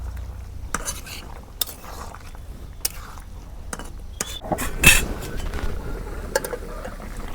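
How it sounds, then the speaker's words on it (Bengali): Ground cumin paste is stirred into a radish curry in a pan: repeated spoon scrapes and clinks against metal over a faint background sizzle, with one louder clatter midway. "তরকারির মধ্যে দিয়ে দিই যে জিরা বাটা।"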